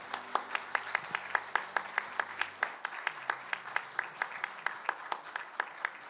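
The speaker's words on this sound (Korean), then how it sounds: "큰 격려와 축하의 박수를 보내주시기 바랍니다" Church congregation applauding at a Sunday service, a steady run of distinct claps with an even rhythm, fairly quiet and distant in a large room, with faint background tones beneath.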